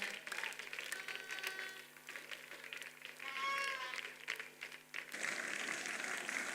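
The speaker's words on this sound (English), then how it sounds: "Please keep clapping till he's off here" An audience at the World Lifting Conference 2022 afternoon session claps for a pastor leaving the stage, loose scattered applause with voices and music tones running beneath it.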